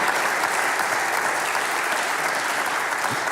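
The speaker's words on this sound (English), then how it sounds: "How about a big round of applause for our top 10 Happy list?" A studio audience breaks into steady, dense applause that holds at full strength throughout, loud and continuous with no speech over it.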